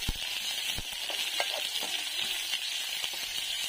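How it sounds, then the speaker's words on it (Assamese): Chopped onions sizzle steadily in hot oil with a bright hiss and scattered crackles, close by and fairly quiet, with no talking. "এয়া কটা পিয়াজখিনি দি দিছো"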